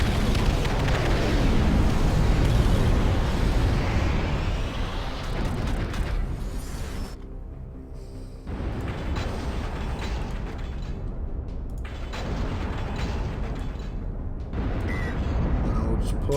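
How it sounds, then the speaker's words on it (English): Airstrike explosions in the real-time strategy game Ashes of the Singularity, a dense, rumbling barrage of blasts that swells and fades over a long stretch, steady and loud with brief dips between waves. "Another airstrike."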